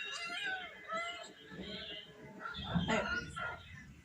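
A cat meows several times in short plaintive calls, close and clear, during Eid festivities at home, with some background voices and a dog-like yelp mixed in toward the end.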